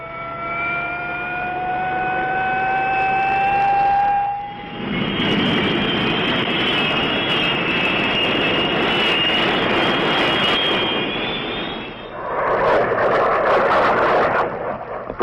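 A military jet flying in for close air support during the Vietnam War in 1967: a loud, steady engine roar with a rising whine that swells, holds and surges again as the aircraft passes close overhead.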